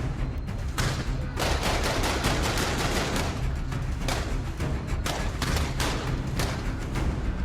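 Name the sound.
gunfire from men shooting in a TV show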